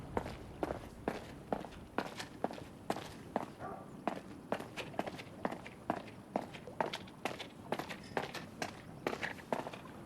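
Quick, steady footsteps running over a hard surface, about two to three strides per second, close and continuous throughout.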